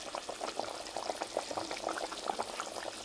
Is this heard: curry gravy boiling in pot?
yes